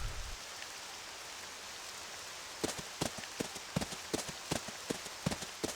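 Rain in the video game Octopath Traveler II, a soft steady hiss under a series of sharp, rhythmic clopping taps that start partway through.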